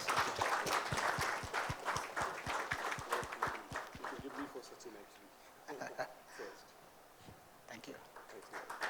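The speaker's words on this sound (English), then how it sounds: "Can we have a round of applause for both of them?" Audience applause at a corporate event on empathetic customer experience, dense clapping at first that thins and fades, then scattered claps return, with some voices murmuring underneath.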